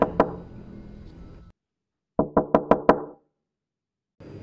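Knocking on a door in a horror story: two sharp raps, a pause, then a quick run of five hard knocks, and another sound beginning at the end, all crisp and close.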